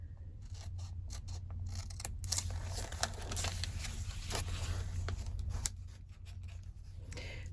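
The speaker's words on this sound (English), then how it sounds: "I'm just coming in with scissors down to the edge and then pulling them out" Scissors snip along the sewn binding of a hardbound journal, and pages are pulled and ripped out, giving a quiet run of crisp cuts and papery tearing over a low steady hum.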